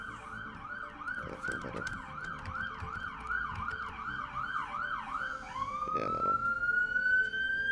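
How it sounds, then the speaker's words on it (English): Emergency vehicle sirens wail outside on a Friday, a steady rising-and-falling sweep that shifts into a long climbing tone, heard at a distance from indoors while someone briefly talks nearby. "That's why you'll hear the sirens."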